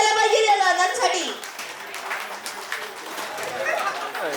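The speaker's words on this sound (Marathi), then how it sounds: "जोरात टाळ्या झाल्या पाहिजे त्या दादांसाठी" Guests at a 58th birthday party burst into applause after a brief voice, the clapping carrying on under crowd chatter.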